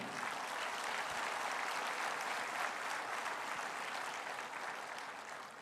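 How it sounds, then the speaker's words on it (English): Steady round of audience applause at a seminar as a speaker is welcomed to the stage, fairly faint and distant, dense clapping that holds evenly and tapers slightly at the end. "let's have a big round of applause for Dr."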